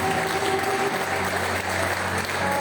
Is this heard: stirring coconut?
no